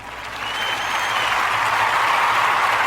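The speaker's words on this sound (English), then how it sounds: "That deserves a round of applause." A burst of applause as a podcast sound effect, a dense clapping wash that swells quickly and stays loud for a few seconds.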